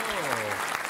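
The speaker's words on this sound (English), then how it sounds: "The crowd goes wild." A burst of audience applause at a live skateboarding podcast show fills the space, dense and continuous, with a voice briefly audible over it.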